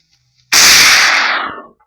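A single loud, sharp blast from an automatic rifle in a video game rings out in otherwise near silence and trails off in a decaying echo over about a second.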